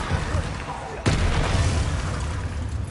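A Bombarda blasting spell goes off in a video game with one sudden loud boom, then a rumbling roar over game ambience.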